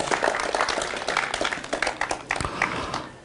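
A live audience claps and applauds for performers at a French poetry and declamation show, a dense, fairly faint patter that thins out toward the end.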